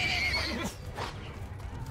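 A horse neighs in the medieval battle game Mount & Blade II: Bannerlord, a short, fairly faint whinny over a low background hum with a faint hint of hoofbeats.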